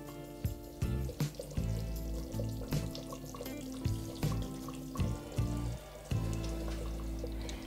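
Pistachio sauce cooking gently in oil over lowered heat, a steady soft sizzle and bubbling with faint irregular pops throughout, fairly quiet and continuous with no voices.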